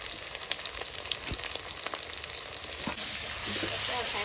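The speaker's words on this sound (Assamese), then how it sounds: "এতিয়া এইখিনি ধুনীয়াকৈ ৰঙচুৱা হোৱালৈকে ভাজি থাকিম" Onions fry in a pan for a pork dish, a steady crackling sizzle with scattered pops and clicks that grows a little denser and louder toward the end.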